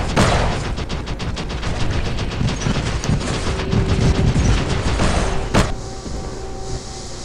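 Bane weapon in the War Robots video game firing a sustained, dense barrage of rapid shots that runs continuously and loud for about six seconds, then gives way to a lingering low hum.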